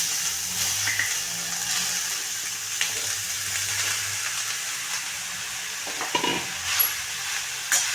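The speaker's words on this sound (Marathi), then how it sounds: "आणि चमच्याने थोडा हलून घ्यायचा आपण ह्याला आता तुपामध्ये हा चांगला परतून घ्यायचा" Grated carrot stirred and sautéed in ghee for a halwa, a moderate steady sizzle with low scraping strokes of a spoon, then a few sharper clinks of the spoon near the end, no voices.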